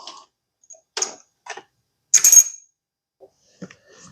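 Small metal clinks and a brief ringing ping as a drain plug is handled and reinstalled on a KTM 300 enduro motorcycle, a few sparse, close taps separated by silence.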